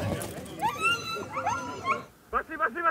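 Sled dogs at a bikejoring race in Crimea yip and whine excitedly in quick, high bursts, moderately close, mixed with people talking throughout.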